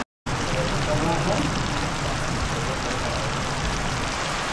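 Rain falls steadily at a building site where a village prayer house is under construction, a dense, even hiss that runs unbroken after a brief silent start, close and moderately loud, with no talk over it.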